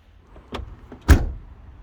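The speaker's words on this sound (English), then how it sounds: "So I quite like to try out the door shut sound." Mercedes-Benz 230 CE car door shut: a soft preliminary clunk followed by a solid, close, single thud of the door closing, with no talk.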